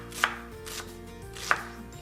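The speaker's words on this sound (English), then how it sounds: "Chop one medium to large onion" Two sharp knife strokes through an onion on a cutting board, well spaced and close, with a low steady kitchen hum beneath and no voices.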